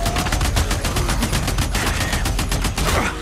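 Rapid automatic gunfire in the zombie-survival game Days Gone, a dense, continuous stream of loud shots firing without pause, with fainter background noises layered beneath.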